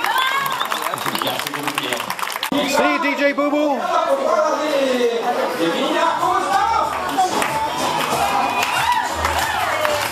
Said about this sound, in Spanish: Un aplauso para DJ